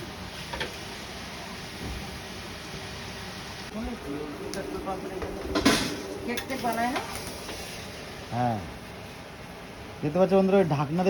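Large batch of about 15 kg of cabbage being stirred in a big pan, with scraping and sizzling frying sounds under conversation, louder stirring bursts toward the end.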